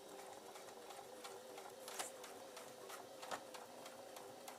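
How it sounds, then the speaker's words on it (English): A sewing machine stitches back and forth through the top of a gold ballgown skirt, a quiet, steady mechanical whir with rapid ticking needle strokes and a couple of sharper clicks. "I'm just going to sew backwards and forwards at the top of this"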